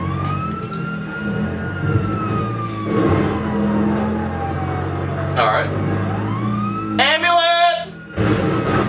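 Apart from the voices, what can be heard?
ambulance siren in a video game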